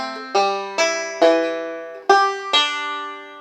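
A banjo plucks a short melody of about six bright notes, each ringing and decaying, played up close without any talking.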